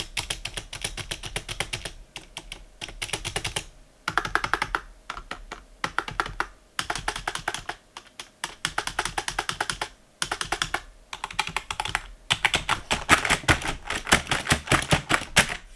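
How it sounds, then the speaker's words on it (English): Rapid, loud clattering keystrokes on an Npet K10 keyboard with a rattly space bar, coming in dense bursts separated by brief pauses, close up and with no voices. "here I'll just tap on the space bar, and the space bar is relatively rattly."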